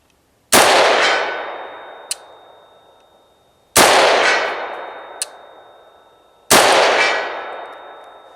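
Three loud rifle shots, each followed a moment later by a faint metallic ping as the bullet strikes a steel target at 100 yards; the reports are evenly spaced, with long decaying echoes and no talking.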